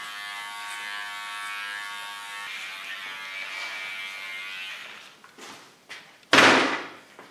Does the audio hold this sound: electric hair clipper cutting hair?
yes